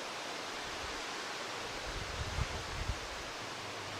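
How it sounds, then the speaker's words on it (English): Wind blows around the porch of a flint church in Suffolk, making a broad, steady rush. A few low buffeting gusts thump against the microphone partway through, and no one speaks. "Very windy all of a sudden."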